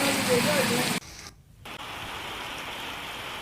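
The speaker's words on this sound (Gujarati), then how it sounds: "ધોધમાર વરસાદ શરૂ થયો છે" Heavy rain pours over rural villages in Gujarat as a steady, dense broadband hiss. It drops away briefly after the first second, then resumes evenly.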